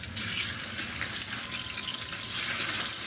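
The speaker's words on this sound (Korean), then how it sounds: "그 다음 닭다리살을 올리브유에 튀기듯이 구워줍니다." Chicken thighs fry in olive oil in a pan, a steady hissing sizzle with faint crackles, close and alone.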